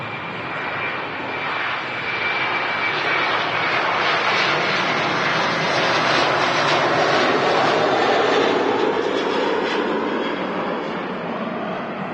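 An Aer Lingus A330-300 at Manchester Airport roars steadily, a loud broad jet-engine rush that swells slightly and holds for the whole stretch with no talk over it.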